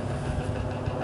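Pneumatic drill working on a Scottish mountainside, likely for hydro works, heard as a steady low rumbling chatter in the distance without speech.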